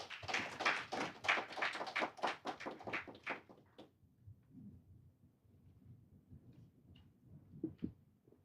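A forum audience claps in welcome as a speaker comes forward, a short burst of crisp, fairly close applause for about three seconds that fades into quiet room tone with faint shuffling.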